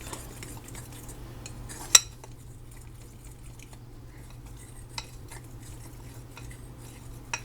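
A utensil stirs a mixture in a bowl, giving quiet scraping with a sharp metallic clink near two seconds and lighter taps later, over a soft low hum.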